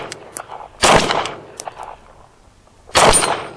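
Rifle shots striking a Do-All Outdoors Blast Back steel target, heard as two loud sharp impacts about two seconds apart with lighter clanks and knocks between them.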